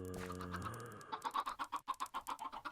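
An adult chicken in the video game Minecraft gives a drawn-out cluck followed by a quick run of rhythmic, pulsing clucks, close and clear.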